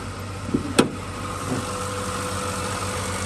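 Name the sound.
Ford 5.4 3-valve engine idling, possible injector tick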